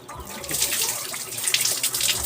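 Water splashes and pours as schoolchildren are bathed outdoors, a close, continuous gush and slosh without speech.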